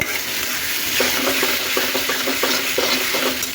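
Cumin, cardamom, cinnamon, bay leaf and cloves fry in hot oil for a crab curry, making a loud, dense, continuous sizzle with scattered pops and a few stirring knocks close by, without voices.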